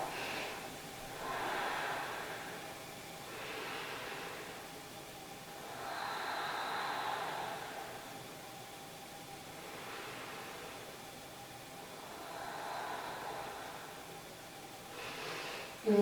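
Slow, deep breaths during a yoga child's pose on a mat, five or six gentle airy inhales and exhales rising and falling, close and quiet, with no talking.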